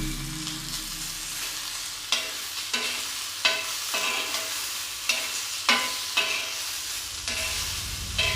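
Tomatoes frying in a pan for village-style dal palak, a steady sizzle broken by regular scraping strokes of a stirring spoon roughly every half second to second, close and clear with no speech.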